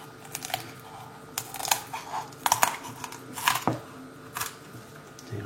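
Kitchen scissors snipping around the backbone of a small spring chicken, a series of sharp crunchy cuts in irregular bursts with quiet pauses between, close and fairly faint.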